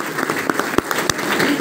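Audience applause at an indoor business seminar, a brief burst of clapping with a few distinct sharp claps standing out.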